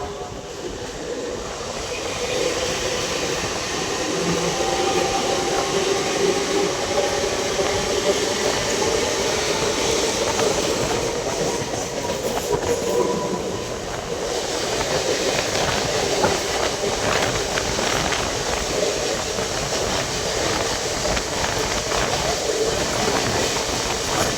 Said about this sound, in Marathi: फायनली आता ट्रेनमध्ये बसलोय.